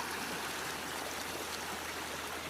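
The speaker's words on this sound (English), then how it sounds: "I'm just running the sluice." Water rushes steadily through a gold prospecting sluice on Bull Creek, a continuous broadband stream noise with no pauses or voices.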